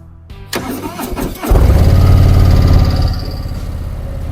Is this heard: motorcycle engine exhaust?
yes